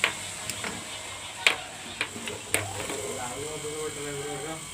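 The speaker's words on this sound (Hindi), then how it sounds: "देखिए हमारा पंखा चलने लगा।" A repaired table fan motor starts up after a condenser is connected, giving a steady low hum and whir with several sharp ticks and clicks early on, fairly quiet and close.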